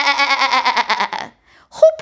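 A storyteller's voice imitates a sheep bleating with a long, wavering, pulsed baa that stops abruptly. A short vocal sound follows after a brief pause.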